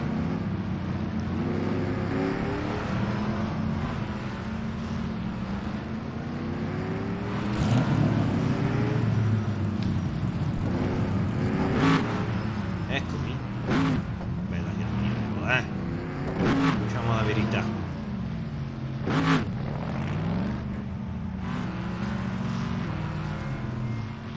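A Chevrolet supercar engine in an Indianapolis racing video game drones and revs continuously with shifting pitch, accelerating hard through gear changes, while someone talks over it throughout.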